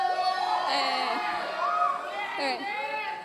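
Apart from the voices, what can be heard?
youth audience cheering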